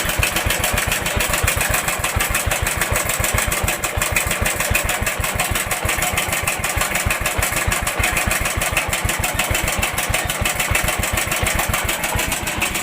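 A motorcycle engine idles with loud timing chain noise, giving a steady, rapid mechanical clatter that repeats evenly throughout at close range, with no voices.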